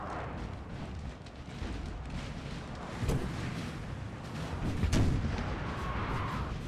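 An artillery battery firing in the Napoleon Total War video game, deep booming shots near the three- and five-second marks over a constant rumbling battle din, with no talking.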